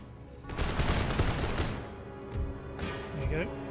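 Musket volleys crackle in the Empire Total War battle game, a dense ragged burst of rifle fire followed by scattered later shots at moderate loudness, with a voice talking over parts of it.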